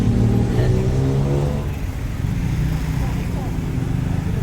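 A tuk-tuk engine revs on a busy Bangkok street in Pratunam, its loud, close, throaty drone rising and then settling into a steady idle, with someone talking over it.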